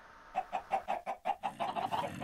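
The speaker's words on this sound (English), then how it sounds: "I want to do something with these chickens." Chickens in the Minecraft video game cluck in a steady run of about ten short, evenly spaced calls, fairly close and clear with no talk over them.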